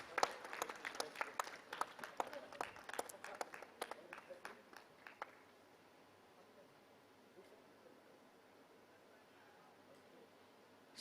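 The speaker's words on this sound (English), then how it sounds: "Let's have a round of applause." Audience applause at a formal stakeholders' meeting on weather and climate services, a dense burst of clapping for about five seconds that then fades to quiet room tone.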